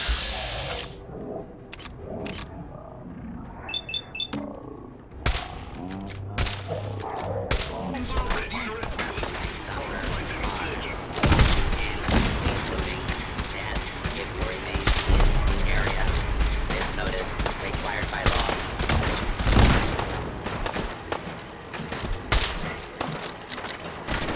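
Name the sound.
cannon warning shots fired at scavengers, from a video game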